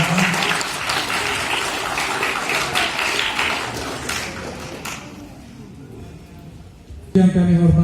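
Applause for a choir at an arts performance and book launch, steady clapping that fades out over several seconds before a voice starts speaking.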